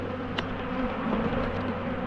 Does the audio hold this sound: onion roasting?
no